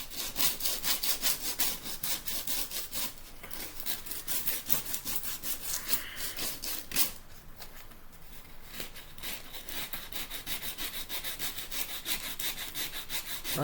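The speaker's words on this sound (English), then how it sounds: "Right now I'm using 60 grit sandpaper" A paper mache turkey is sanded with coarse 60 grit sandpaper in quick, rhythmic back-and-forth rasping strokes. The sound is close and steady, with a brief pause midway before the scrubbing resumes.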